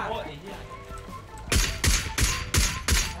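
Gunfire in the PUBG video game: after a stretch of quieter game noise, five loud, evenly spaced shots ring out in the second half, each with a sharp crack and trailing boom.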